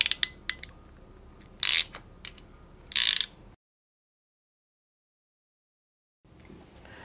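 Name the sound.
PEX clamp tool crimping clamp ring onto tubing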